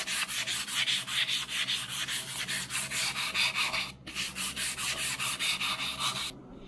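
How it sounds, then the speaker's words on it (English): High-grit emery cloth rubbed by hand over a disc brake part from a Toyota FJ40 Land Cruiser front axle, a steady rhythmic rasping scrub of close, even strokes with a brief pause near the end. "I have this emery cloth."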